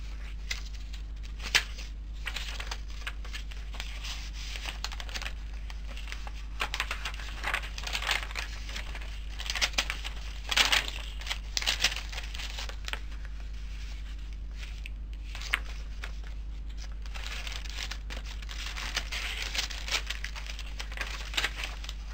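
Coffee-dyed deli paper pages of a handmade patchwork journal are handled and turned, giving soft, quiet crinkles and rustles with occasional light taps and flicks throughout.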